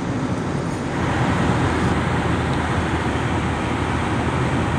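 A constant low highway drone fills the cabin of a 2001 Ford Ranger XLT pickup truck, steady and broadband with a deep rumble underneath and no breaks.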